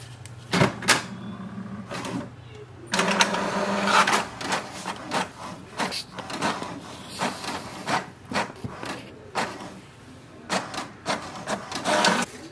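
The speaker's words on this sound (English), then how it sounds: "wait for the printer to print a page" An HP DeskJet 2331 inkjet printer running through a page: mechanical whirring passes, clicks and shuttling carriage bursts in an uneven rhythm, close by, with a low hum underneath.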